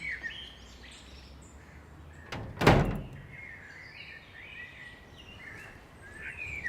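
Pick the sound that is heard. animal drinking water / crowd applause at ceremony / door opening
door opening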